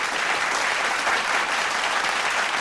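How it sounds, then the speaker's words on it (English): Audience applause at a podcast event, a steady dense wash of many hands clapping close by, sustained evenly throughout. "let's clap that up"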